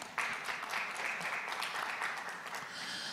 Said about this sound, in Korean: 여러분, 우리 토론자들에게 격려 박수 부탁드리겠습니다.